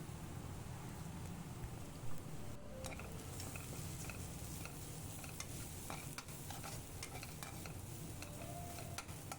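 Okra sautéing in a pan, a soft continuous sizzle broken by frequent clicks and scrapes of a stirring spoon against the metal, close but fairly quiet.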